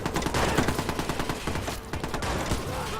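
Rapid, dense gunfire rattles nonstop through a tense shootout in the Watch Dogs video game, loud bursts of automatic fire overlapping with no break.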